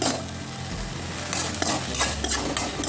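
Methi leaves frying and being stirred in a pan for chutney, with a steady sizzle and repeated scraping strokes of a spoon against the metal, close and loud, with no talking.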